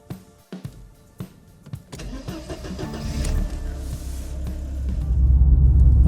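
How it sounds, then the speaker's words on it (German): A few clicks and a brief starter crank, then a classic Mercedes-Benz W124 engine catches and settles into a steady, growing idle rumble close by. "Jetzt kann der Motor gestartet werden."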